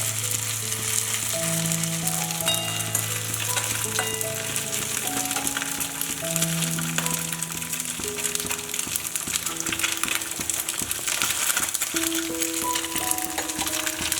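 Continuous loud sizzling and crackling of mustard seeds popping in hot oil, close by and unbroken, with soft background music.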